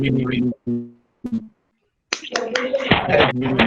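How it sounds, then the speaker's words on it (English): Participants in an online meeting unmute to clap, producing scattered, uneven hand claps that follow a brief stretch of voices, with some speech still mixed in. "please, if you can just unmute to clap"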